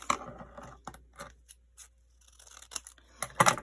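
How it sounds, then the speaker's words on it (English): Several crisp snips of scissors cutting, spaced irregularly with quiet gaps, close and fairly loud. "scissors."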